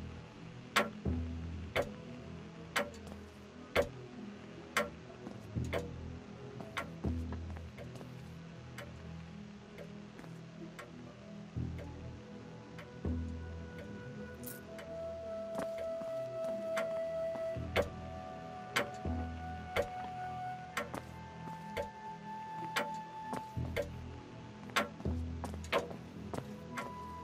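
Steady clock ticking in the horror game Only If, a regular tick-tock pulse repeating throughout, close and fairly clear over a low ambient drone with faint tonal hums, no talking.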